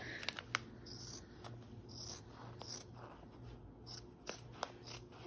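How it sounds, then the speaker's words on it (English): Scissors snip through fabric while a teddy bear zipper pouch is cut out, quiet close clicks and crisp cuts coming in an uneven rhythm against a faint room background. "And then just going to cut all the way around."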